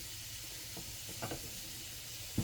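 Eggs mixed with mayonnaise fry in a pan, giving a faint, steady sizzle with a few soft pops and a slightly louder click at the very end.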